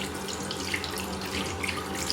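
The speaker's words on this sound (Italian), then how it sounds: "apri l'acqua dalla parte dell'acqua calda e bagnati le mani." Warm water runs steadily from a tap as hands are wetted under it, a close, continuous splashing hiss with a few brighter drips and splashes throughout.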